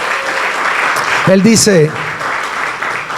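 Applause from a church congregation during a Spanish-language sermon, a steady wash of clapping throughout with a brief spoken phrase from a man partway through.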